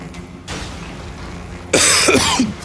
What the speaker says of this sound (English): I can't stop coughing now